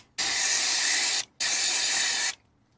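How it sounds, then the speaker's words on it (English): Brake cleaner sprayed onto the mass airflow sensor of a Land Rover Discovery 3 TDV6, two close, loud aerosol bursts of about a second each with a short gap between. "I just sprayed it with a bit of brake cleaner"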